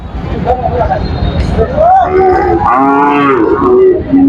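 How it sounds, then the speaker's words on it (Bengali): Cattle at a rural cattle market give long, loud, drawn-out moos over a busy background of crowd chatter and nearby road noise. "এখানে অনেক গরু প্রায় এখনো জমজমাট হয় নাই তবে জমজমাট হবে গরু"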